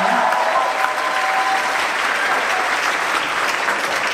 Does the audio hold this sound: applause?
yes